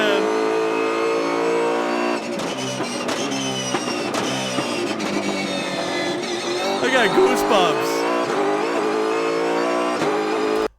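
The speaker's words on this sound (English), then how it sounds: "the sound of these cars is freaking wild" A Supercars race car engine revs hard and loud during a hot lap, snarling through rapid rises and falls in pitch, with a voice speaking briefly over it.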